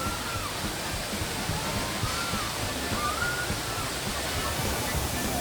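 Thirparappu waterfall thunders down in an unbroken rushing wash of water, steady and fairly loud, while people speak over it.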